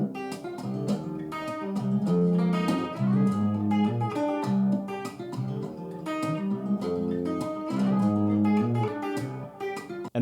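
Plucked guitar with a rhythmic riff alongside a singing voice, close and clear, steady for the whole stretch.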